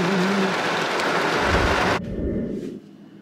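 Heavy rain pours during a storm with flooding, a dense, loud hiss that suddenly drops to a softer, thinner patter partway through before fading, with no speech.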